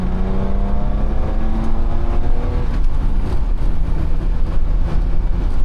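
An old BMW accelerates hard with the pedal floored, its engine droning loud and close as the pitch climbs steadily, then dips and rises again over rumbling road and wind noise.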